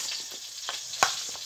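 Food being stirred in a hot frying pan, with a steady sizzle and a few sharp utensil scrapes and clinks against the pan. One louder knock stands out, all close by and with no talk.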